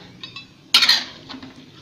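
A spoon stirs sugar into chicken curry in a pan, giving a quick metallic scrape and clink against the pan's side, moderately loud and close, with no talking.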